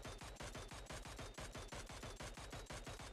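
Rapid automatic fire from a Mini14 rifle in the PUBG video game, a loud, steady stream of sharp shots at an even, fast rhythm that runs unbroken from start to finish with no voices.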